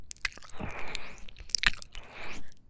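A voice mimics wet dog face-licking slurps, giving several quick, close, moist smacking bursts spread across the span with soft breathy gaps between them.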